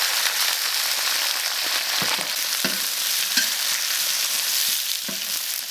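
Pork intestines stir-frying with ginger and garlic in hot oil, a loud continuous close sizzle with intermittent scraping stirs from a spatula in the wok.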